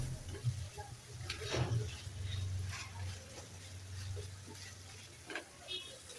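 Potatoes stirred into a fried spice paste in a pan for an egg and potato curry, a steady low sizzle with faint scraping stir strokes throughout, no talking.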